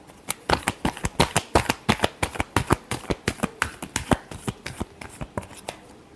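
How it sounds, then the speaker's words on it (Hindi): A deck of tarot cards is shuffled again and again in quick rhythmic riffles, crisp and close, with no voice over it. "Last shuffle."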